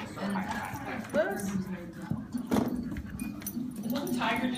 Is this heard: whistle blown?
no